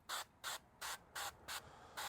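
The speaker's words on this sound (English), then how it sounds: "I'll add a bit of spray oil. This is spray olive oil." Olive oil spray can sprayed onto turkey drumstick skin before smoking on an offset grill: six even, evenly spaced short hissing bursts, close and clear, with no talking.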